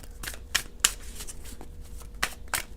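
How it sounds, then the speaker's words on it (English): Tarot cards riffle-shuffled in a few quick bursts, crisp papery flutters sounding close and moderately loud with short gaps between them, no talking. "So I just wanted to get a quick couple shuffles in there."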